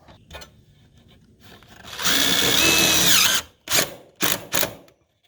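A power drill drives a screw into siding on a workshop wall, one loud sustained whir of about a second and a half ending in a pitch dip, followed by three short bursts of the drill, close and without talk.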